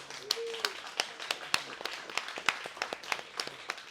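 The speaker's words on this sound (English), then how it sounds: "let's give these guys a round of applause" A small group claps at a talk on building a first detached accessory dwelling unit. The claps are sparse and distinct, spaced out and fairly close, with voices murmuring underneath.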